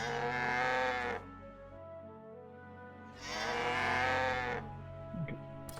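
Two loud, drawn-out sheep bleats from the video game My Time At Portia, each about a second long and separated by a quiet pause, with a faint tick at the end.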